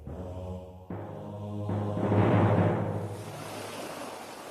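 Sea waves washing against the Moroccan coast, a steady surging roar that swells in the middle and then eases, with no voices present.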